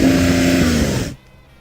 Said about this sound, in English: This is what a 911 Turbo S sounds like when you're stationary revving it.